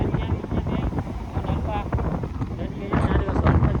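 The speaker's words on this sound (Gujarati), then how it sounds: "જતા દરિયાનું પવન આવે" Gusty sea wind buffets the microphone with a steady low roar, while people talk throughout.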